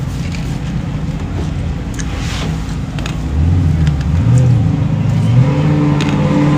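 An off-road race truck on a high desert course in Powell, Wyoming, with its engine droning steadily, then swelling louder and rising in pitch as it passes close by.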